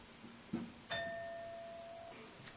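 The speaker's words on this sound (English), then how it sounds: "The doorbell rang." A two-tone doorbell chime rings indoors, with a brief knock-like tap and then a sustained ding whose tone fades slowly over about two seconds, clear and moderately loud against a quiet room.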